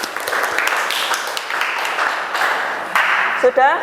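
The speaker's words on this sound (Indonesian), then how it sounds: "Beli aplaus untuk kelompok 4." A classroom audience applauds a student presentation group, steady dense clapping that holds at an even level throughout, with a brief bright ping near the end.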